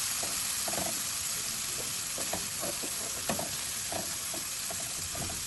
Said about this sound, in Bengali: পেঁয়াজ কুচিটা একটু ভেজে নিয়ে তাতে রসুন বাটা